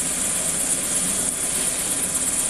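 A rescue helicopter flying near trees around Shadow Lake Lodge, its rotor and engine making a steady, loud, continuous drone with a hiss in the background and no talking.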